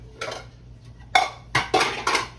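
A mixing bowl being set down and shifted on a kitchen counter while making old-fashioned banana bread: a few sharp clattering knocks, close and fairly loud, with quiet pauses between.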